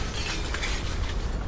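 Glass breaks in Call of Duty: Black Ops 4 Blackout mode, a dense burst of shattering and crunching debris lasting over a second, loud and close with no talk.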